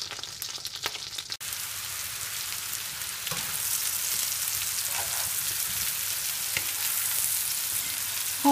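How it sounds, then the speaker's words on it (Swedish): A generous knob of butter melts and sizzles in a small frying pan, a steady close crackling hiss that runs throughout with a few soft clicks and no talk. "Först ska smöret smälta och börja fräta och ha sig."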